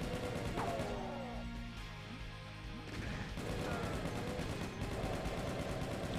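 Rapid gunfire blasts in a ZDoom community map for Doom, dense bursts and crashes layered over game music and rumble, with a voice talking now and then over the shooting.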